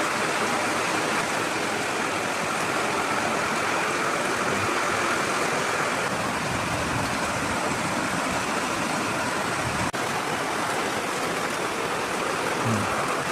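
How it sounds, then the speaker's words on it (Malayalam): Heavy downpour from the first rain of the season drums steadily and densely, a continuous loud wash of falling water with no pause, alone without voices. "നല്ല മഴ"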